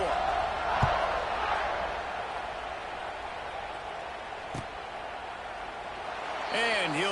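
A college football stadium crowd buzzing after a touchdown, a steady, distant murmur of many voices that holds at a low, even level throughout.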